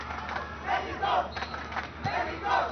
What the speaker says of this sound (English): the Mexican man in the crowd starts singing the country's name